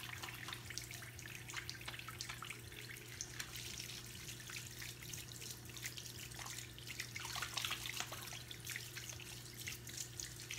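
Running tap water splashing into a sink as hands are washed at home, a steady close hiss and patter with small dripping surges, over a constant low electrical hum.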